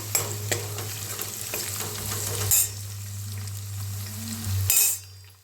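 Garlic, green chili, ginger and curry leaves frying in hot oil for tomato sambar, a loud continuous sizzle close by, broken by a few brisk stirring scrapes.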